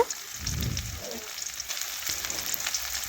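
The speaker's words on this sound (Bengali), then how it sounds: "দেখুন এখন টমেটো পেঁয়াজের সাথে একটু ভেজে নেব নাড়াচাড়া করে এইভাবে" Onion and tomato sizzle in hot oil in a pan while being stirred, with a continuous crackling fry, soft scraping of the spoon, and no talk.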